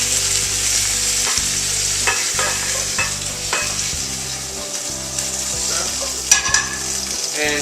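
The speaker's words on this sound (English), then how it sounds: "now that I've let this sear and saute for a little while, you can see that nice golden color" Pork tenderloin sears and sautés in a pan with a steady sizzle. The frying stays loud and continuous throughout, with some stirring noises and a few brief clinks over it and no talk.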